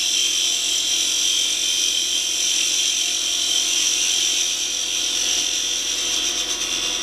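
A wood lathe spins steadily while a gouge rides the bevel on a miniature hollow form, giving a continuous bright, hissing cutting whine that stays loud and even throughout, with no voices.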